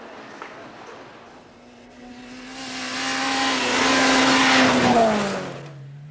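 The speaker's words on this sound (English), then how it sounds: "My latest rally car is a Escort Mexico." A Ford Escort Mexico rally car drives past on a quiet road, its engine noise swelling from a steady drone to a loud, rising roar near the middle and then easing off as it goes by, with no talk.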